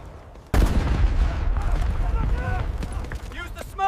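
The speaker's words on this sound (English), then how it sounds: "Flanking fire from the Grant opens up" A Grant tank opens flanking fire in a North Africa desert battle game: a sudden loud burst starts a dense roll of gunfire and explosions, with voices shouting over the din.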